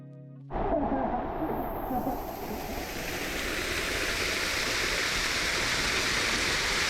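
A small waterfall in the Indonesian jungle pours in a steady, full rushing hiss that starts abruptly and carries on loud and close, with no other sound over it.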